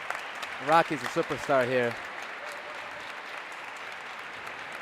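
A crowd at a racquetball match in Cochabamba, Bolivia breaks into steady applause that continues throughout, while someone speaks over the clapping near the start.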